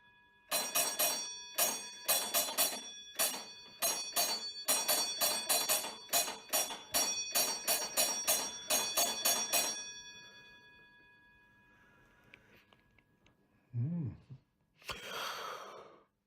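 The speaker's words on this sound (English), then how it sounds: "Signal bell." A signal bell rings in a long run of sharp, evenly spaced metallic strikes with lingering tone, then stops; a faint breathy sigh and a brief rustle follow in the quiet.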